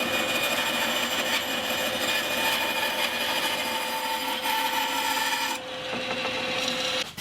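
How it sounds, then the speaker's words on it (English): A bandsaw cuts through wood in one steady, continuous rasping pass lasting several seconds, then the blade runs free and quieter as the cut finishes. "So I'll cut that off on the bandsaw"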